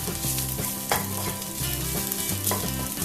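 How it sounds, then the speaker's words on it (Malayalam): Chilli and turmeric powders sautéing with soya chunks in a pan, a close constant sizzle broken by regular scraping stir strokes roughly every third of a second. "ഈ പൊടികൾ ഒന്ന് മൂപ്പിച്ചെടുക്കാം ഇതിന്റെ പച്ച മണം മാറുന്നത് വരെ ഒന്ന് മൂപ്പിച്ചെടുക്കാം"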